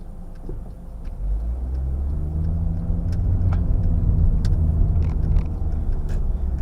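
A 2015 Honda Jazz pulls away from a junction, its engine a steady mid-pitched hum with low rumble that swells slightly as it accelerates, heard from inside the car with no talking.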